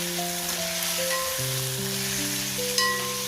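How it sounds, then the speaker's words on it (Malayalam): Marinated chicken is stirred into frying onions, ginger and garlic in a pan for chicken biryani, making a steady, close sizzle that runs beneath background music, with one brief clatter near the end. "ഇനി നമുക്ക് അതിലേക്ക് മാരിനേറ്റ് ചെയ്ത് വെച്ചിരിക്കുന്ന ചിക്കൻ ചേർക്കാം. വീണ്ടും നന്നായിട്ടൊന്ന് ഇളക്കി യോജിപ്പിക്കണം."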